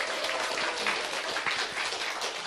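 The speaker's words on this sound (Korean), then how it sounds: "오늘 웬일로 이렇게 환영의 박수를 다른 때랑 다르게" A seminar audience at The Hue & Company business presentation gives a welcoming round of applause for the manager taking the stage: dense, steady clapping from many hands, fairly close, filling the whole stretch without a break.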